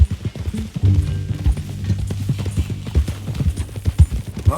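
Horse hooves clip-clopping at a steady walk in the Red Dead Redemption 2 video game, close and rhythmic, with a low tonal hum of music or ambience underneath.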